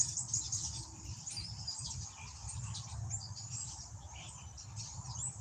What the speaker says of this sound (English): you hear all the birds, Northern Girl?